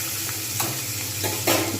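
Tomato fries in a pan for a paneer and cauliflower curry, a continuous sizzle broken by a few quick scraping stirs, close and fairly loud with no voices.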